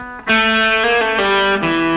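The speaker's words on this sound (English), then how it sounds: "And then I'm doing a pull off." Electric guitar in a blues lead: a sustained note with a slight bend, then a quick pull-off dropping to lower pitches, played close and clear with a light effected tone and no talking.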